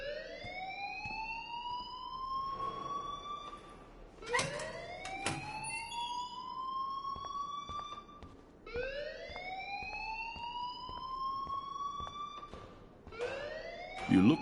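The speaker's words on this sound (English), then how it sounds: "please turn off that alarm since that's your job" An alarm in Life Is Strange sounds as a repeating rising electronic whoop, each sweep climbing over about four seconds before restarting, interrupted by sharp bursts of noise.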